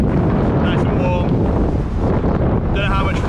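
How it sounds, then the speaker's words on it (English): Heavy wind buffets the microphone in a loud, constant roar in Port Pollença, Mallorca, with brief faint whistling tones breaking through now and then. "mega windy"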